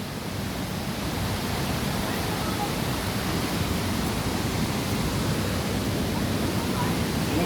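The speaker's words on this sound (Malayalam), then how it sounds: "അപ്പോൾ നമ്മൾ ആ പാലരുവിയുടെ വെള്ളച്ചാട്ടം നമുക്കൊന്ന് കാണിക്കാം" Palaruvi waterfall at Lakkom roars as a dense, constant rush of falling water, loud and close, unbroken throughout with no other sounds standing out.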